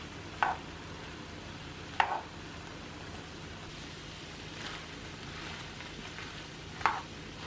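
Ground beef and broccoli being stirred together with heavy cream and sour cream in a pan, giving a soft steady sizzle with three sharp spoon scrapes and knocks against the pan at intervals.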